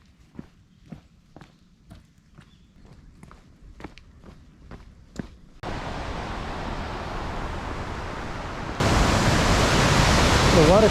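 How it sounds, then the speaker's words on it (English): Footsteps tap along a stretch of the Nakasendo Trail between Gifu and Kyoto before a waterfall's broad, steady roar takes over and grows abruptly louder and nearer. "The waterfall, yay!"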